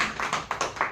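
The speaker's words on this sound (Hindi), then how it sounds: "एक बार ताली बजा सकते हैं भाई साहब की।" Audience applause at a Vestige marketing plan seminar, a short burst of separate claps and taps with uneven rhythm, fairly near and moderately loud, with no talk.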